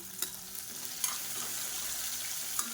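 Three crushed garlic cloves sautéed and stirred in a pan with asafoetida, a continuous close sizzle broken by a few sharp spoon clinks against the pan, no voices.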